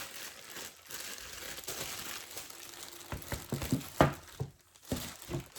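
Plastic wrapping being crinkled and pulled off a 10-inch tabletop ring light with tripod, close, irregular crackling and rustling bursts with a few sharper crunches and brief pauses.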